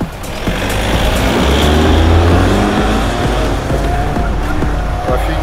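Lada Granta pulling away on a forest track, engine noise rising loud and close with scattered tire and skid-like noise throughout, sustained for several seconds.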